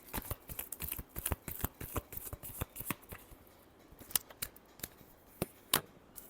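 A deck of tarot cards is shuffled by hand. It makes a quick run of sharp, crisp riffles and slaps, close and fairly soft, with a few louder snaps near the end. No one speaks.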